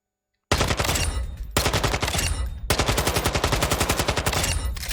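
Rapid automatic rifle fire from the S2R class in Modern Warfare 2, loud and close, in two short bursts followed by a longer sustained stream of evenly spaced shots after a moment of silence.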